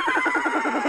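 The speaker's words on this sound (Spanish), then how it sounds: "A ver el caballo." A horse lets out a single whinny, a short, quavering neigh that rises and falls in rapid wavering pulses, close and clear with nothing else heard.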